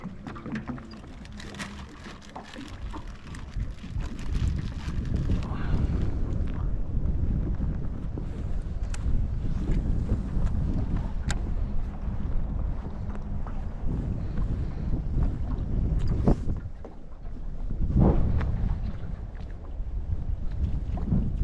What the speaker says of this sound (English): I said the wind's arrived.